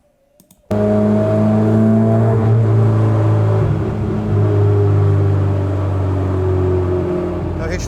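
A Ford Fiesta with a Zetec engine, running on a FuelTech setup, idles up to a steady hum at about 3,100 RPM after a sudden start, holding a loud, continuous drone close by with slight fluctuations.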